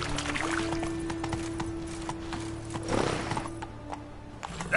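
Geralt's horse Roach in The Witcher 3 trots with steady hoof clip-clops over a low, steady ambient hum, with a brief swell of louder movement near the middle and a short closing thump.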